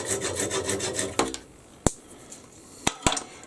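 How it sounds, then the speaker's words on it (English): An old dovetail saw makes several quick rasping strokes, close and fairly loud, then stops, followed by a few sharp knocks and taps. "I've got an old dovetail saw here, just to remove that"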